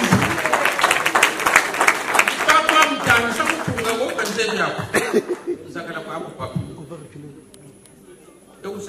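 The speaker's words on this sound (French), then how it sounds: "Applaudissez s'il vous plaît." An audience claps at a gathering, fairly loud and dense at first under a speaking voice and laughter, then thinning out and fading to near quiet.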